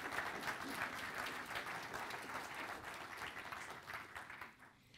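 Steady applause from an audience, dense clapping sustained for several seconds before tapering slightly at the end, fairly distant and soft.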